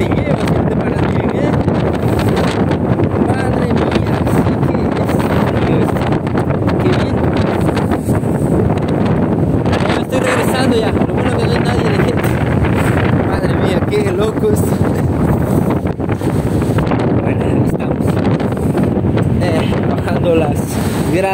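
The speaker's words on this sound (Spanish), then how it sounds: "Es un viento durísimo que te lleva." Strong, gusty wind batters the microphone high on the Eiffel Tower, a loud continuous roar that barely lets up, with a voice talking faintly beneath it.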